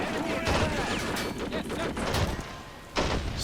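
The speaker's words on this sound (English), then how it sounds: "artillery's getting ready to fire" Artillery and gunfire in the Men of War: Assault Squad 2 strategy game, a busy battle mix of repeated booms and crackling shots layered over continuous noise, with some voice-like sound mixed in.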